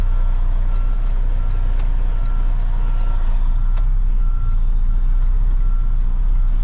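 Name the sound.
tractor-trailer truck reversing into a loading dock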